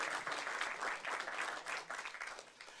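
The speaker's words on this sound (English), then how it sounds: "we can give them a round of applause" Audience applause at an agribusiness panel event honoring a sponsor, a steady wash of many hands clapping at moderate distance for about three seconds, tapering slightly at the end.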